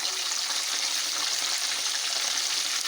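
A Lahori chargha chicken fries in a pan, giving a loud, close, steady hiss of sizzling oil with no pauses.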